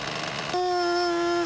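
Too-lean nitro engine on a Nitro Hammer RC boat, a rough buzz that abruptly shifts into a thin, piercing, high-pitched whine held steady and loud at close range.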